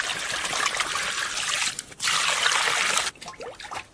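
Water runs and splashes steadily while carp is washed by hand, a close trickling gush that breaks briefly around the midpoint, resumes strongly, then turns to softer dribbles and handling noises.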